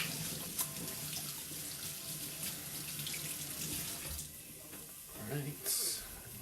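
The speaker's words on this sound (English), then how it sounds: "I'm going to wash my hands real quick." Hands are washed under a running kitchen tap, a steady splashing stream of water into the sink that shifts and splatters as the hands move, close and continuous throughout.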